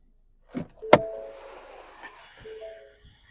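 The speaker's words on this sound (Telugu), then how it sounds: "ఆటో ఫోల్డెడ్ మిర్రర్స్ వర్కింగ్లో ఉన్నాయి." Auto-folding side mirrors on a 2018 Ford EcoSport Titanium diesel, heard as a brief sharp click followed by a close, steady electric motor whir lasting about two seconds, then a short second motor run.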